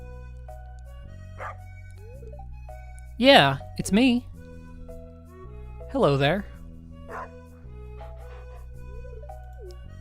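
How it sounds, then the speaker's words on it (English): A dog in the video game Stardew Valley Expanded gives a few short yips and barks in two bursts, close and clear over soft game music, with a voice talking briefly in between. "Can I pet the dog?"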